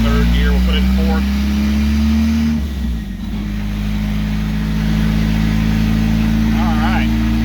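A car runs on a dyno in third and fourth gear, its engine a loud, steady, droning roar close by that dips briefly and then holds, with voices speaking over it.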